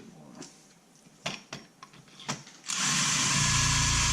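Close to the mic, a few sharp clicks and taps come first, then a power drill starts and runs steadily. It is boring a 3/16 inch hole for a countersink in the convertible top frame of a 1966 Ford Mustang.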